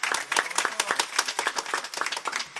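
Scattered hand clapping from the audience at a live music and comedy show, a few seconds of uneven, moderately loud claps without cheering.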